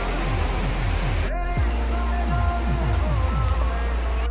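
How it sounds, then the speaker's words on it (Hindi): Water rushing steadily at Dobo Dam, a loud, continuous broadband roar that fills the whole clip. Tonal chirps and other sounds mix in, and a voice is faintly present. "इधर से जा रहा है पानी"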